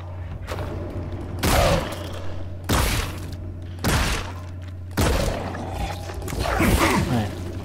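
Gunshots in the video game Scorn, four or five loud, close blasts spaced about a second apart, each with a crunchy, shattering tail over a steady low hum.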